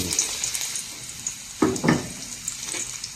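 Garlic fries in hot oil in a pan with a steady bright sizzle, and two louder spattering bursts come partway through as it is added and stirred.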